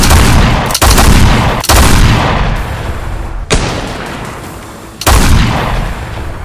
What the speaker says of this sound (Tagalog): putok ulit ng mga kanyon kasabay ng mga baril na pinapatamaan sina O'Hara